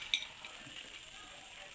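Egg snack balls frying in hot oil give off a soft, steady fizzing sizzle, quiet and continuous, with no voices.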